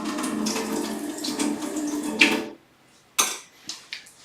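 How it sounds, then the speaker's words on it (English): A water tap runs steadily for about two seconds while something is rinsed underneath, then shuts off, followed by a few quiet clinks and knocks nearby. "I have to rinse."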